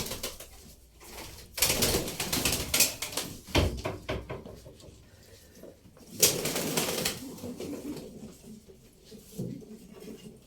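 Pigeons in a coop, with soft coos and sudden bursts of wing flapping and rustling at irregular moments, fairly close, with some background movement between the bursts.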